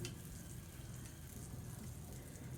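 Pongadalu, puffy Telugu chalividi snacks, bubbling in hot oil as they puff up, a steady close sizzle with fine crackle that holds evenly throughout, with no talk.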